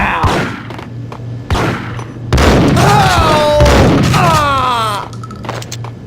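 Gunfire in the video game Max Payne, with heavy booming shots, two separated blasts and then a sustained loud volley, while shouting voices and distorted cries overlap the shooting.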